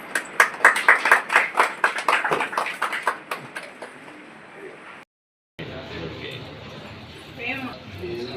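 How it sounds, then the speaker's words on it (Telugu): An audience claps at the opening of a paediatric gastroenterology hospital, with a run of rhythmic, loud, close claps for about three seconds that fade into a murmur of voices and background chatter. "క్లాప్స్ కొట్టండి."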